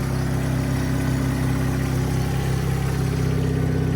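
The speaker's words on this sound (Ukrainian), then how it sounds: "Робота двигуна." An Opel Zafira 1.8 petrol engine idling close up, a steady low mechanical hum with a faint regular pulse, unchanging for the whole stretch with no talking.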